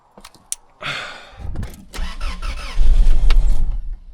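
A 2000 Toyota Tacoma engine with a misfire, cranking and catching into a rough, uneven idle that grows louder toward the end, heard close up and without talk.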